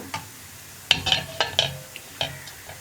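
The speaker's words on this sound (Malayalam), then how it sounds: "അപ്പോൾ നമ്മുടെ പൊടികളൊന്ന് കുക്കായി തുടങ്ങുന്നുണ്ട്." Spice powders cooking in a pan for a beans and potato masala, with sharp metal spoon clinks and scrapes against the pan over a soft sizzle; a few close, irregular strokes and no talk.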